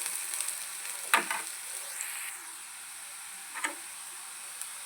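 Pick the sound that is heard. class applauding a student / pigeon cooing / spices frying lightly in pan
spices frying lightly in pan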